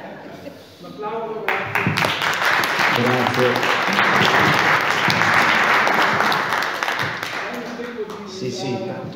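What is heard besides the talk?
audience applause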